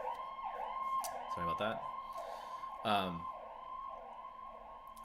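Emergency vehicle sirens wail outside in a steady, wavering tone that runs faintly through the whole stretch, while a person indoors briefly speaks over them.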